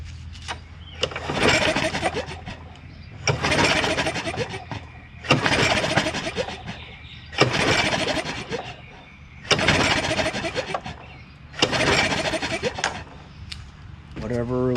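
The recoil starter cord is pulled repeatedly on a Troy-Bilt 21-inch Briggs Quantum 190cc self-propelled lawn mower. There are six or so rough, rattling cranking bursts about two seconds apart, and the engine never catches. The sound is close up.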